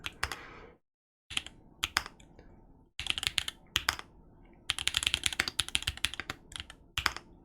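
Typing on an Obliterated 75 mechanical keyboard fitted with Gazzew LT stems in tangerine housings: bursts of crisp, close keystrokes in an uneven rhythm, with short pauses between flurries and one dense run in the middle.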